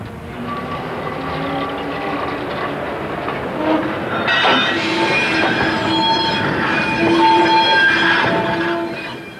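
A 1963 Ruston diesel hauls a quarry train along the railway at a chalk quarry in Barrington, Cambridgeshire, with a steady rumble, rattling wagons and squealing wheels that grow louder as it passes close by.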